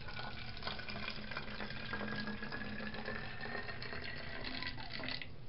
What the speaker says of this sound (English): So it's gonna pour the water.